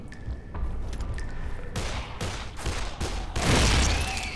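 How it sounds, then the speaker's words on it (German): Explosions and gunfire-like bursts from the video game Dead Island, a dense run of loud, broadband blasts and cracks, building to a heavier boom near the end with no talk over it. "Da kommt was, was Explodierendes."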